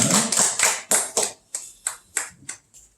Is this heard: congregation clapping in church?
yes